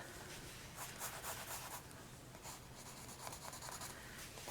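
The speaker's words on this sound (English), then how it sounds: "I'm still pressing with the side of my pencil." Pencil shading on paper using the side of the lead, a steady soft scratchy rubbing that runs unbroken at close range with slight swells in pressure, no voices.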